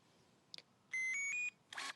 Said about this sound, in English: you're going to hold this trigger down until it beeps